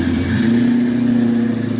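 A 1972 Oldsmobile Cutlass Supreme V8 holds a steady, loud, close rumble with a strong low hum that swells only slightly; no voices.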